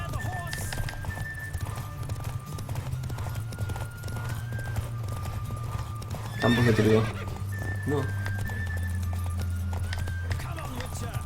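Horse hooves clip-clopping at speed in The Witcher 3 video game, steady rhythm under continuous game music, with a whinny midway and someone speaking briefly over it.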